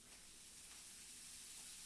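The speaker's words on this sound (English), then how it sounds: "Get that sizzle." Pre-packaged cabbage sizzles in hot sesame seed oil in a pan, a steady, faint, even hiss with no talking.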